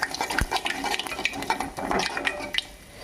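Lentils and cumin stirred in a pan: clattering, scraping spoon strokes against metal with a faint sizzle underneath, close and uneven in rhythm, no talking.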